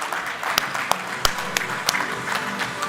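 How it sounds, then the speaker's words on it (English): Applause from a conference audience at a blockchain summit, clapping broken by several sharp individual claps standing out above a steady patter, with faint talk underneath. "Can we have a round of applause for everybody from the Travelcoin team?"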